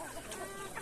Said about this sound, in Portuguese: Tem umas galinhas lá, elas estão ficando embaixo ainda